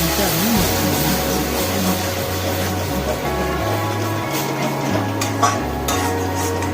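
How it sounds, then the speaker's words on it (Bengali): Pumpkin sabji mixed with beetroot paste is stirred in a pan, with continuous scraping and soft sizzling under a voice speaking throughout. "সব কটা মিশ্রণকে খুব ভালোভাবে কিন্তু আমি মিশিয়ে দিচ্ছি।"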